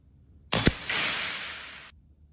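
A Kral Arms Empire XS .177 sub-12 air rifle fires once outdoors at a 50-yard target, a sharp close crack followed by a fading rush that trails off over about a second.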